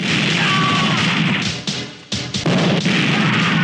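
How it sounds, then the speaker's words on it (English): Movie rocket launcher explosion in an action film, a loud burst and crash with a rumbling tail, broken by a couple of sharp cuts and secondary impacts over a few seconds. "This guy's rocket launcher makes an explosion exactly like the rockets from the helicopter."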